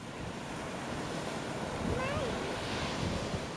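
Sea waves wash steadily onto the shore as a continuous broadband surf roar with wind noise on the microphone, a faint whistling tone rising briefly in the middle.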